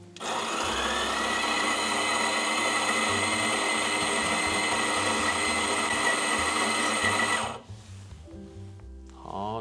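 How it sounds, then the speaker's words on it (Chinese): An entry-level home burr grinder paired with a Gemilai 3145 espresso machine grinds about 18 grams of coffee beans, a loud, steady whirring roar lasting around seven seconds before cutting off, followed by faint rustling. "我们来看一下磨18克粉需要多长时间哦"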